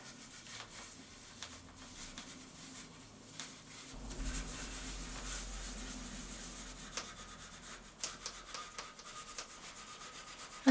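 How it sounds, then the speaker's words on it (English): Wire wool, grade 4/0, rubbing wax into oak on a barley-twist stool, a steady close scrubbing rasp in back-and-forth strokes, soft then fuller in the middle, with a few small knocks. "Applying it with some 4/0 wire wool, not rubbing too hard."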